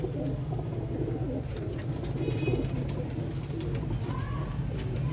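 Domestic pigeons coo steadily and close by at a pigeon loft, a low continuous rumble of overlapping calls with a faint voice now and then in the background.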